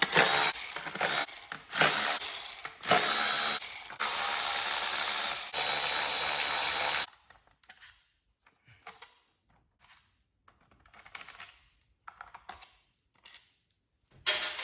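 A ratchet with an 8mm socket works bolts off a Honda EM6500 generator, giving a close, busy run of clicking and rubbing bursts for several seconds before the sound drops to scattered faint handling noises.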